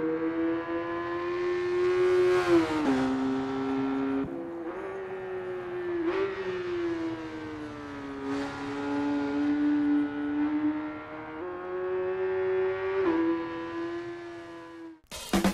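Engine of a Kawasaki Zephyr 1100 motorcycle in the RIDE 4 racing game, lapping the Tsukuba circuit: a steady droning exhaust note that rises and falls through repeated gear changes and throttle swells, heard alone without talk.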